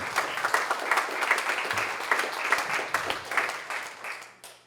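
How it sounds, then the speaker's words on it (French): Audience applause at a firefighters' recognition evening, moderate and steady for several seconds, then tapering off near the end. "Donc, bonne main d'applaudissement pour Steve"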